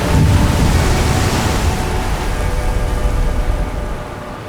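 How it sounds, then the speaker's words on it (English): Atlantic ocean waves surging into a sea cave, a loud, continuous deep roar and wash that swells early and slowly recedes, with no voices. "when you just listen to the sound of the waves,"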